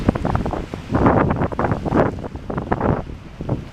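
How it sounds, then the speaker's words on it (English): Heavy surf pounds the shore at Bay Shore Park, New Franken, Wisconsin, in repeated crashing surges, loud and close, mixed with gusty wind buffeting the microphone. "the waves are crazy"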